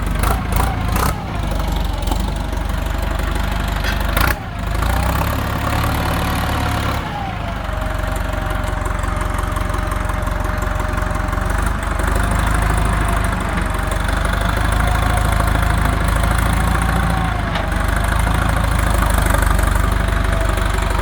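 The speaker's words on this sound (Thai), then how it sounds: "เสียงเครื่องนิ่มๆนะครับ เพราะเครื่องยนต์นี่ เทคใหม่หมด" A pickup truck engine, freshly rebuilt, idles steadily and loudly up close, a continuous low rumble with slight shifts in tone and a few clanks near the start.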